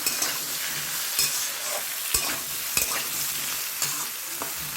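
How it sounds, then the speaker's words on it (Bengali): Eggplant fries in a pan with a bright, steady sizzle while being stirred, with soft clinks and scrapes of the utensil against the pan recurring every second or so, close and without talk. "বেগুন দিয়ে আমি একটু নেড়ে নেব"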